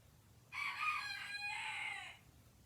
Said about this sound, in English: He can also hear the other chickens outside.